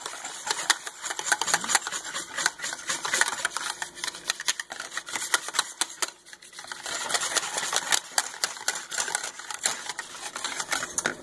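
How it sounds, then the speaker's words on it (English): A whisk beats flour batter in a bowl, making a steady, rapid clatter of quick scraping taps close by, with brief pauses and no talking. "make sure you whisk it real good"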